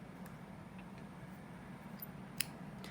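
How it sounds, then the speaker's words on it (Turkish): Scissors snipping yarn while finishing an amigurumi smiley keychain, a single faint quick snip late in a quiet stretch with low background hum. "ipimi kesiyorum"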